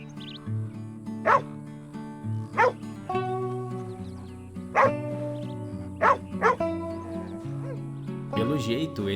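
A dog in Red Dead Redemption 2's survival mode barks in short, sharp bursts, about half a dozen spaced irregularly, over soft sustained background music.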